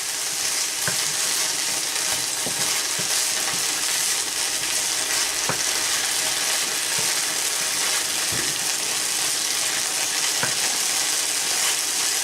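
Onions fry in a pan over high heat, an even, dense sizzle running throughout, with occasional light spoon scrapes and taps against the pan, close and steady.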